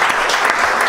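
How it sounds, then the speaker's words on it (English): Loud, dense clapping from a live audience at a philosophy podcast event, sustained and close throughout the brief moment. "Clapping for him."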